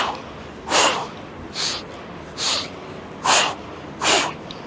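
Heavy breathing during a rope flow exercise in Bangkok, Thailand: five loud, rhythmic exhales or snorts spaced about a second apart over a steady background hiss.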